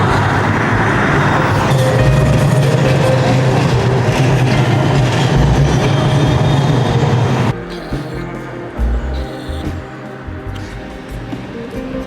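A tram or train rolls past on an Amsterdam city street, a loud, steady rumble lasting several seconds before cutting off abruptly into quieter street ambience.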